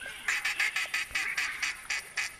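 Repeated duck quacks from flocks flying overhead in the hunting game theHunter Classic, about ten evenly spaced calls in a steady rhythm, clear and fairly close.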